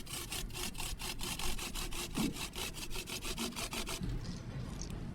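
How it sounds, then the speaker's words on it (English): Cucumbers being grated by hand, about twenty rapid, evenly spaced rasping strokes over four seconds, loud and close, then stopping, with no talk. "With grated cucumbers."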